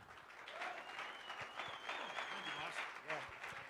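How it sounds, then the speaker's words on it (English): An audience at a conference claps to welcome a speaker to the stage, moderate applause with whoops and a voice talking over it, fairly distant and soft overall. "please give me a round of applause and join me."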